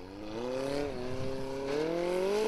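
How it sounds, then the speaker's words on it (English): Engine of an Icelandic Formula Offroad race car at Stapafell, heard at a distance and fairly faint, a steady rising whine under throttle with slight dips as the revs shift. "This car sounds completely different to all the other ones"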